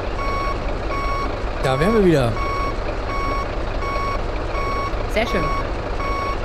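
Reversing beeps from a truck in American Truck Simulator, a steady repeating electronic tone under continuous engine rumble, with someone speaking briefly over it.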